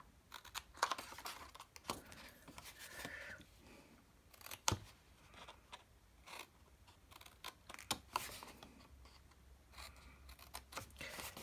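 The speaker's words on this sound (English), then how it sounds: "So I'm just cutting to the intersection of the score lines." Scissors snip through cardstock tabs of a handmade gift box in quick, quiet, irregular clicks and crunches, close by in a calm room.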